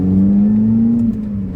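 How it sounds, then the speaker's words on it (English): Loud Lotus Elise engine drone inside the cabin with its hard top fitted, a steady close mechanical hum that rises slightly in pitch before easing off; any roof squeak is not distinct. "I'm sorry for the squeaky roof and the sounds that are in the car"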